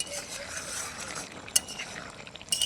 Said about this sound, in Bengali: সয়াবিনের সঙ্গে মিশিয়ে নেব।